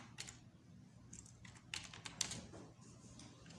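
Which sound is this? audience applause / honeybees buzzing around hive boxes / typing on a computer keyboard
typing on a computer keyboard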